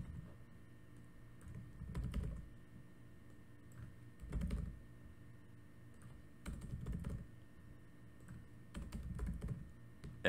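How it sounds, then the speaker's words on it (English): Arrow keys pressed on a computer keyboard in short separated bursts of soft, close clicks, with quiet gaps between each group of presses. "using the arrow keys, I'm clicking up, down, left, right."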